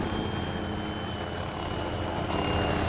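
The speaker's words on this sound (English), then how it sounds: "Chopper just landed right in front of us." A Little Bird helicopter in a video game sets down close by, its rotor and engine giving a loud, steady, thumping roar that holds throughout with no speech.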